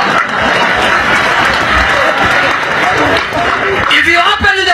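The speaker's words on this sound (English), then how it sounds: "Now clap for Moses." Audience clapping as a crowd applauds at a religious debate, steady and fairly loud, with some voices and crowd noise mixed in before it tapers off.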